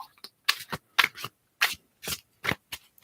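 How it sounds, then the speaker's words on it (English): Close, crisp bursts of playing cards being shuffled, about eight short riffles in an uneven rhythm separated by brief silences. "let me shuffle your cards just a bit"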